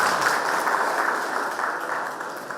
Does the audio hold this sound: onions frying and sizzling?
no